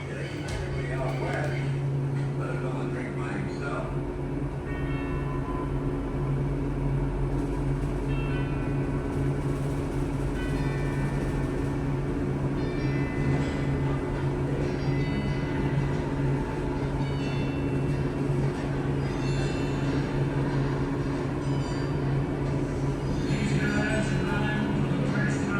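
A ThyssenKrupp Synergy traction elevator in a convention center parking garage hums steadily during a ride, a constant low mechanical drone with faint rattles, while a person talks over it.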